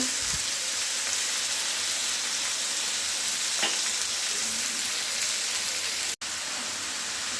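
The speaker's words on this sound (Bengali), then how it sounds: "দিয়ে আবার চিকেনটাকে একটু ভাজা ভাজা করবো" Minced chicken sizzles in oil among fried onions, an even, unbroken hiss at close range with a faint scrape or two and a sudden brief cut late on.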